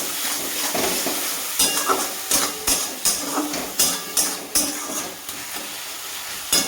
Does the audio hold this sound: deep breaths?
no